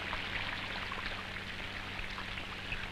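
Steady rain falls in a constant even hiss with fine drops pattering on a surface throughout, soft and unbroken.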